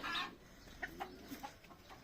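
Fancy crested hens from Pakistan give a few short, scattered clucks at moderate distance over a low background hum, with a louder burst at the start and no talking.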